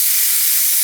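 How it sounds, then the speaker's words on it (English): Compressed air blasts through the hole of a car gear shifter to clear out excess WD-40, a continuous loud, high-pitched hiss with no low end, close by and unbroken for under a second. "Just blow the compressed air in through the hole there"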